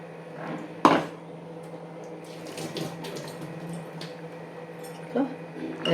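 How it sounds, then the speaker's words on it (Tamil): Rinse water from a mixer jar poured into a pot of drumstick leaves and toor dal kootu: a splashy pour with a sharp clunk early on, then a soft, steady trickle and light kitchen clatter. "மிக்சி அலும்பி ஜலத்தையும் இதோடையே விட்டுடுறோம்"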